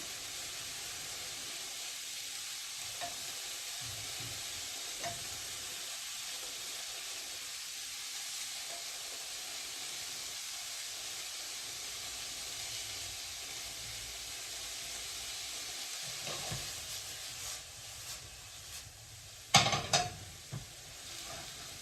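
Chopped onions softening in a pan for a traditional Italian Bolognese sauce give a steady, soft hiss, with a few faint stirring scrapes and louder utensil clinks near the end; no one speaks.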